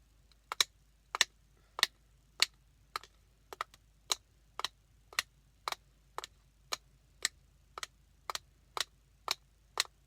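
Women's shoes step in an even, unhurried rhythm. About sixteen crisp heel clicks ring out one by one over a quiet background, with a couple of steps doubled up.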